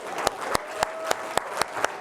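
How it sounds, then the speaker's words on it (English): A worship congregation claps hands in unison, seven sharp, evenly spaced claps about a quarter second apart, fairly loud over a soft background hum. "Yeah, clap."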